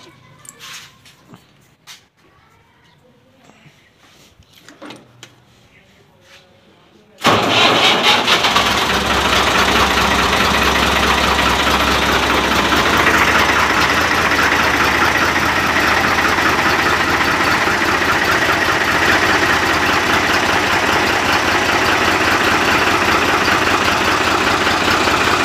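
A tractor engine starts abruptly after a quiet stretch with faint background sounds, then settles into a loud, steady, close diesel idle that runs on without a break.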